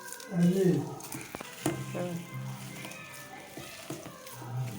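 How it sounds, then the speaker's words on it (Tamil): Spices tempering in hot oil for neer urundai, a South Indian snack, crackling and sizzling in the pan alongside clinks and stirring, with a person talking over parts of it. "இப்போ தாளிச்சுக்கிட்டு எல்லாத்தையும் சேர்த்து கலந்து பசஞ்சிக்குவோம்"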